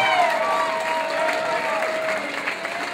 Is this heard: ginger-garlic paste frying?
no